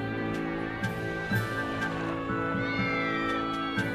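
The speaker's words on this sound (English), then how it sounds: "it could be one of the cats" A cat meows repeatedly indoors, a series of short, fairly close calls spaced across a steady background hum, with no talking.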